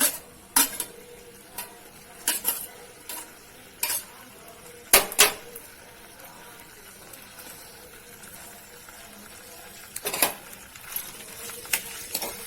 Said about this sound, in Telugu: ఇవి వేగుతూ ఉంటాయి ఇవి బాగా వేగాలి